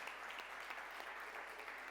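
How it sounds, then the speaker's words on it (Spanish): Quiet applause from a studio audience, a soft, continuous patter of many hands clapping, faint and steady throughout with no speech. "aquí un aplauso podemos darle a Camila"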